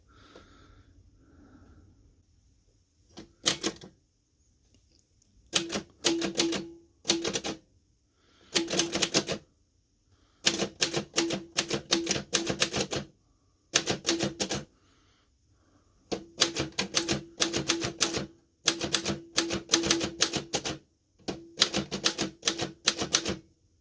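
A Remington Junior typewriter over a century old clacks in close, crisp bursts of keystrokes separated by brief silences, with rapid runs of keys striking in quick succession.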